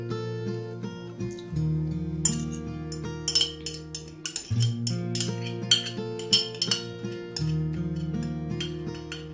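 Brinjal and other ingredients being stirred into yogurt in a bowl with a spoon, giving repeated light clinks and scrapes over a steady background hum, with no talking.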